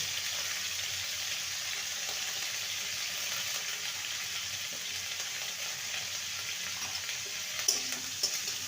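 Cauliflower frying with salt and turmeric in a covered pan, giving a steady, even hiss of sizzling oil throughout with a few faint clinks near the end and no voices.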